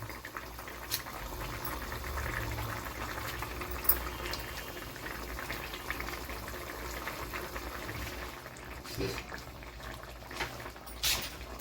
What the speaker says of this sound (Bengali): ফ্লেমটা পুরো লো করে দিয়ে 5 মিনিট আমি একটু ঢেকে ফুটাবো